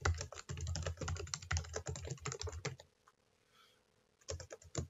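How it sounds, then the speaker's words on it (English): Fast typing clatters on a computer keyboard entering a document header, rapid key taps in bursts, a pause of near silence, then the typing resumes. "if I go in and I start typing my header here"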